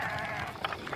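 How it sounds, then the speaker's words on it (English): Sheep bleating in a farm field, a steady wavering bleat running through the whole second at moderate loudness with some outdoor background noise. "I fucking hate sheep"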